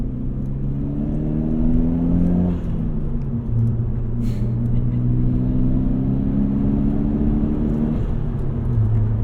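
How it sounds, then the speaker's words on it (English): A 1998 Eagle Talon TSi turbo engine heard from inside the car, droning loud and steady as revs rise and fall through gear changes, with a short hiss that may be the blow-off valve near the middle. "Good blow-off valve noise."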